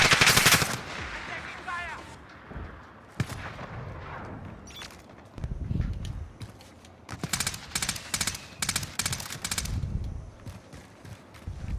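Gunfire in a first-person shooter video game: a loud opening burst, scattered single shots, then long rapid automatic volleys, close and sharp, with low rumbles between.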